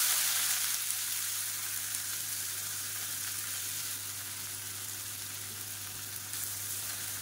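Steady, even sizzling of finely chopped onions frying in hot oil, close and continuous with no talking.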